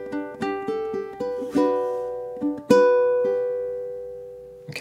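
A fingerpicked acoustic guitar plays a bar of an etude, plucked notes ringing over a sustained bass with an open G, then one final chord left to ring and decay, alone and close.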